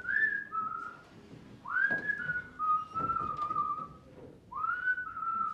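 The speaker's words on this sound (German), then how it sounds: "Er pfeift schon wieder." A house painter whistles a tune in clear, sustained phrases with short pauses between them, moderately close in an indoor stage setting, with no talk over it.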